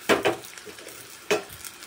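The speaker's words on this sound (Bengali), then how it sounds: "পেঁয়াজ কুচি দুটো এই রসুনের মধ্যে ঢেলে দিলাম" Chopped onions tumble into garlic frying in hot oil, marked by a few sharp clattering knocks of utensil on pan over a soft, low sizzle.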